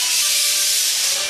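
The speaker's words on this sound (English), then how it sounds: "It's the sound of the rice cooking." Rice cooking on a kitchen stove gives off a steady, loud steam hiss, a broad airy noise that holds constant throughout.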